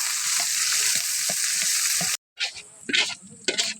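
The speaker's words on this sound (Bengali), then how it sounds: "করলা ভাজিটা বসাই, তেল দিয়ে দিই, কাঁচামরিচ" Bitter gourd fries in hot oil with onion and green chili, a loud dense sizzle with soft spatula taps. After a sudden brief silence, the sizzle returns in uneven bursts as the pan is stirred.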